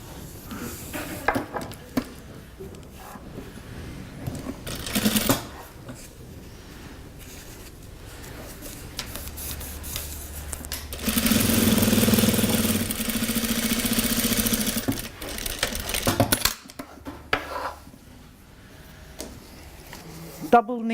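Industrial sewing machine running a straight hem, its motor rising into a sustained hum for several seconds in the middle amid scattered clicks and handling noise, with a person talking around it.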